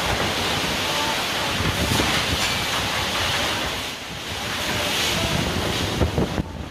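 Strong wind during a storm with heavy rain, tearing apart market stalls, roaring and buffeting against the microphone in a continuous broadband rush, loud and close, with a brief dip midway.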